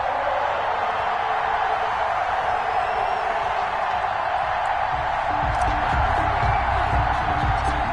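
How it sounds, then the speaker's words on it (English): A broad stadium crowd roars in a continuous wash of cheering at an NFL game between the Kansas City Chiefs and New England Patriots in Madden 21, steady and distant-sounding throughout. "This crowd is ready as their guys get set to match up with Cam Newton and the New England Patriots"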